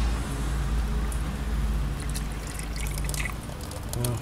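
Dirty red coolant drains from a Dacia Megane's cooling system, a continuous close trickle and splash of liquid pouring out, with scattered small drips and clinks on top.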